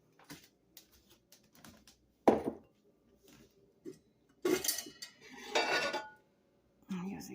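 A metal pan is moved about on a kitchen stove, giving scattered clanks and scrapes of cookware with brief metallic knocks between quiet gaps, close and moderately loud.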